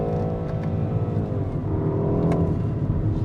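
A 2021 BMW 128ti hot hatch engine revs steadily under load, the tone swelling and dipping as gears change down, heard from inside the car with a continuous close drone throughout.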